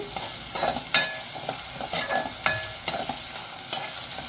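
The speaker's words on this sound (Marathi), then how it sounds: "कांदा मी त्यात घातलाय आणि छान असं परतून घेते" Onion sautés in a pan, a close, steady sizzle with rhythmic spatula scrapes and taps roughly every half second, and no voices.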